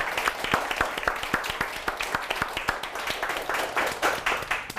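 Audience applause at a lecture show for a team leader, many hands clapping with distinct sharp claps in a steady, lively wash.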